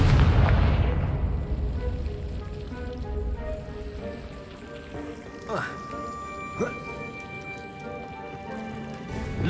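A Confringo spell goes off in Hogwarts Legacy on PS5, opening with a loud, close fiery blast that fades into a low rumble, followed by a couple of brief whooshing magical sweeps.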